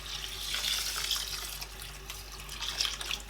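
Water runs steadily from a tap into a pot of rice for parboiling, a continuous close splashing rush that holds for the whole stretch, with no talk.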